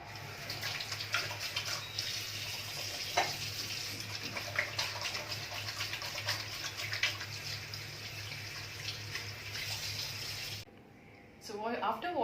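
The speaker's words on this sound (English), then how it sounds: "So after this kriya, we will wash our nose and our hands thoroughly." Water runs steadily from a tap while the nose and hands are washed, a continuous close splashing rush with a voice talking over it, ending in a brief near-silence before a few splashes return.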